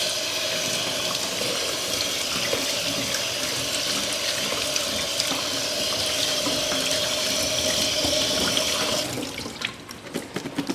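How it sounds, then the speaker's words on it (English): Cold tap water runs steadily over dulse rolls sitting in a sieve, a continuous close hiss and splatter that cuts off near the end. "I'm going to run a little bit of cold water over that."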